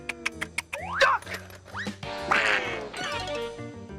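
A cartoon duck gives a burst of loud, nasal quacks, a rapid run of short squawks followed by longer, wobbling honks, close and clear over faint background sounds.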